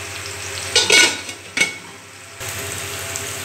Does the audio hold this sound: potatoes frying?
yes